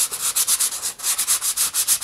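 Medium grit sandpaper rubbing down raised ridges on a plastic model kit part, heard as a steady run of close, loud back-and-forth scratchy strokes, about eight per second, with no voice over it.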